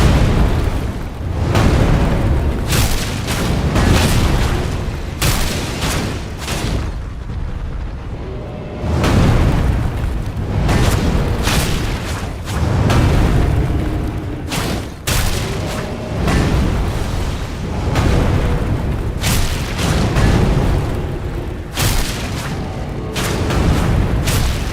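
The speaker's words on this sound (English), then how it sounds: "Oh, he's spitting fire." A fire-breathing boss in Elden Ring spews flames in repeated loud, roaring bursts that surge and fade in waves, with short gaps between the blasts.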